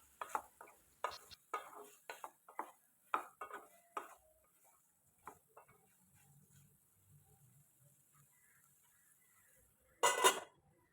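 A spoon stirs pumpkin and sweet potato in a cooking pot in a run of quick scraping strokes, then a quiet stretch with faint sizzling, and one final louder clatter near the end.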